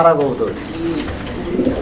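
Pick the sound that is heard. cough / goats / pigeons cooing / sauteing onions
pigeons cooing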